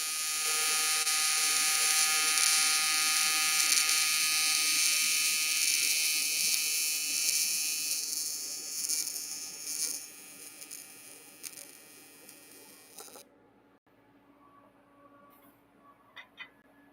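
Everlast arc welder running a steady, loud crackling buzz close up for about thirteen seconds, then cutting off abruptly into near silence with faint ticks and small clicks.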